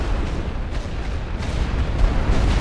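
Artillery fires in a rolling barrage in the First World War strategy game Elite Great War Western Front, a dense, continuous mass of heavy booms and low rumbling blasts, loud and unbroken, with no speech.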